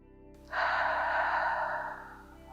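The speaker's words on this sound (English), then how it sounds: "We'll end our practice with a deep cleansing breath in through your nose and out of your mouth." One long, deep exhale out through the mouth at the close of a slow flow yoga practice, an airy rush that starts suddenly, holds steady, then fades, close and alone.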